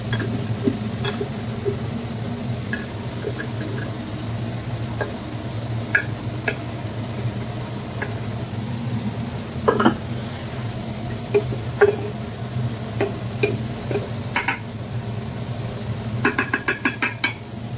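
Rice with ghee is shaken and stirred in a pan, with sparse clinks and light scrapes of a utensil over a steady low hum, growing busier toward the end.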